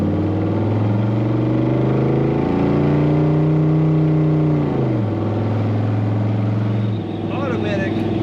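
A red 1966 Chevrolet Corvette convertible with side pipe exhaust rumbles close by, its engine rising in a couple of steady revs, holding a deep throaty drone, then dropping back to a lower idle.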